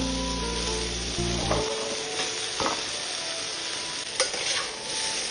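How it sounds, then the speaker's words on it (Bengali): Vegetables and vegetable stems for shukto sauté in a pan, a loud steady sizzle with a few soft stirring knocks, and a low hum that stops early. "সবজিগুলো কিছুটা কষে এলে তার মধ্যে যে ডাঁটাগুলো কেটে রেখেছিলাম সেগুলো মিশিয়ে দেব"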